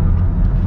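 A Mercedes-AMG EQE53 electric car gives a steady, low synthetic rumble while braking, heard up close and continuous for under a second.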